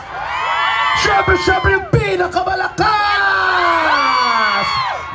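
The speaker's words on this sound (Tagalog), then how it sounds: "hiyaw naman dyan! Yung malakas!" A large outdoor crowd at a live comedy show on Chater Road, Hong Kong, whoops, yells and cheers loudly and continuously, with a host shouting over the din.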